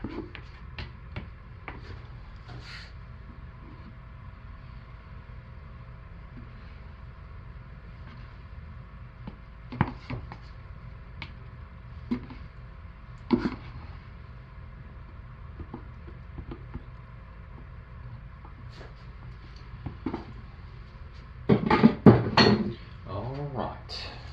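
A soap batter container is scraped out into a pot in a soap-making session: scattered soft knocks and scrapes of utensil on plastic and metal, a louder cluster of clatters near the end, under quiet talk.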